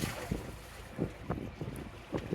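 A sailboat pulls out of its slip under engine power on a solo offshore passage from Charleston, with steady wind buffeting the microphone and water sloshing around the hull in a low, continuous wash.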